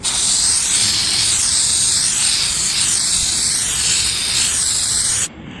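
A loud, continuous aerosol clear coat spray hisses close by onto a car headlight for about five seconds, steady with slight swirling fluctuations, then cuts off abruptly.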